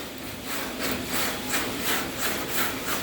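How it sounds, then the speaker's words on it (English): Crosshatch sanding of guide coat off the epoxy-primed bodywork of a 1968 Fastback, heard as close, rhythmic rasping strokes repeating roughly every half second at moderate volume. "all you're going to do is just crosshatch the guide coat off"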